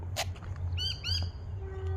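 Birds in a park calling nearby with a few sharp squawks and quick chirps over a constant low background hum.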